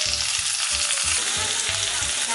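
Chopped onion and ginger garlic paste fry in a pan with a steady, loud hiss, broken by regular low scraping thumps of stirring, with no voices.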